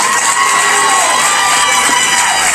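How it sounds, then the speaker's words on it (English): A crowd at a youth swine show cheers and shouts loudly for the child exhibitors, a dense, sustained roar with whoops, close and continuous for the whole moment. "I ask that you give all these kids a round of applause."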